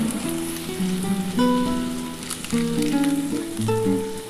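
Spiced masala with cumin powder sizzles in a pan for a vegetarian potato and pointed gourd curry, a steady frying hiss running beneath melodic background music.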